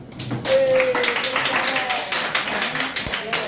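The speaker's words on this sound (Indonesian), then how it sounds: "tepuk tangan" Students in a classroom clap for a group, a burst of scattered handclaps mixed with voices and chatter that continues to the end.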